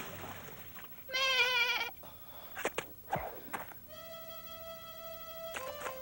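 A sheep bleats twice nearby, a long wavering call and later a steadier one, with soft footsteps and shuffling in between.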